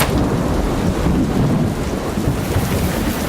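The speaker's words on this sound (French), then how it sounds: "Disons qu'il pleut." A rain-and-thunder sound effect: heavy, steady rainfall under a loud, continuous rumble of thunder, dense and close for the full few seconds with no voices.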